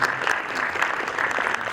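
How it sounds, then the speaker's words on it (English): An audience at a business talk on innovation applauds steadily, a dense, fairly loud patter of clapping filling the room without pause. "applause for yourself"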